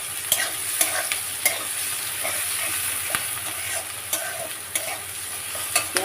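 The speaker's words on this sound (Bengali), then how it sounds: "পেঁয়াজটা লাল করে ভেজে নেব।" Onions fry until browned in a pan for a Bengali egg and okra curry, a steady bright sizzle broken by regular sharp scrapes and taps of a stirring spatula. No voices.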